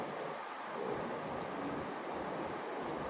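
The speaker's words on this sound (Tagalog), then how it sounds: "Yun, grabe po talaga ang lakas ng ulan. Narinig niyo po ang patak ng ulan?" Heavy rain pours down in a dense, steady hiss with a low rumbling undertone, constant and fairly quiet throughout with no voices.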